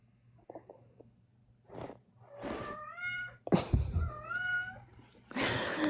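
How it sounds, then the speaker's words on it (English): A house cat meows several times up close, drawn-out tonal cries with rising and falling pitch, mixed with breathy snorts and rustling, no talk over it. "My cat's interrupting more than anyone."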